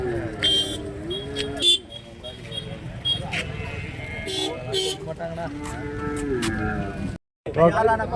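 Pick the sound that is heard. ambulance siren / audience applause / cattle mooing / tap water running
cattle mooing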